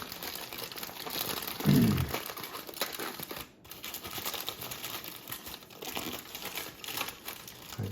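Crinkly wrapping is folded around a whole fish before baking, giving steady close rustling and crackling throughout with one louder crumple early on.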